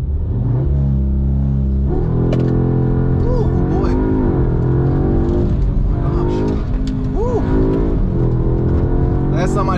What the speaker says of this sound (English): We will give you guys a launch control here.